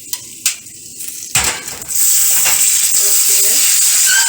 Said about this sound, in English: I will cover it up and allow it to simmer.